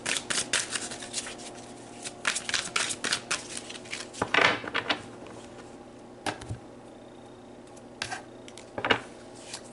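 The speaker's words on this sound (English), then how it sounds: "Let's pull some more cards to look at their heart," Tarot cards shuffled and drawn from a deck, giving irregular bursts of crisp riffling and soft slaps with brief pauses between, fairly close and quiet, with no talking.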